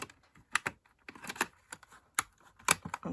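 Pre-scored paper gift bag being folded along its creases by hand, giving a run of short, crisp paper creases and taps, close and fairly quiet, with no talking.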